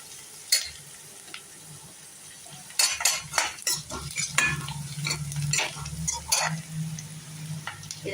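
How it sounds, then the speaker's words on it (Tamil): Onions and tomatoes sauté in a frying pan for a mushroom pepper fry, with a soft steady sizzle broken by irregular clinks and scrapes of a stirring utensil against the pan. "இப்போ நம்ம வெங்காயம் வதங்கிட்டு இருக்குது, அதில் தக்காளியை போட்டு வதக்குவோம்."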